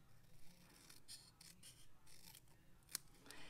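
Scissors snipping diagonally across a small square of designer series paper, a few soft, close crisp cuts and rustles in quiet surroundings, with one sharper snip near the end.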